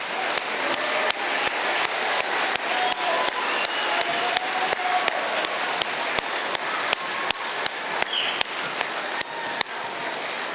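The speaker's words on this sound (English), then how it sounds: "give all of Class 159 a big round of applause" An audience at a graduation ceremony gives Class 159 a big round of applause. Dense, sustained clapping fills the room evenly throughout, with occasional sharper claps standing out.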